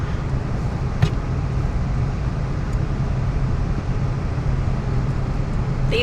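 A car runs steadily along the road next to a van, giving a continuous, loud road and engine rumble with tire noise and no talking.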